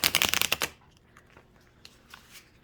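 A tarot card deck being riffle-shuffled, a quick burst of close crisp card flutters lasting about half a second, then quiet with a few faint handling taps.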